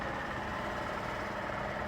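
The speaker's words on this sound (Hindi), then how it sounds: "आइडियल कंडीशन पर इंजन साउंड सुनो," A 2026 Honda Shine 100 DX motorcycle engine idles with a steady, even low rumble, close and constant throughout, with no voices.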